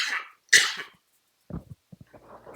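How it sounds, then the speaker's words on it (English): A sharp cough or sneeze bursts out close by, followed by a second forceful expulsion, then quiet breathy sounds. "I got a cough and sneeze, it feels like"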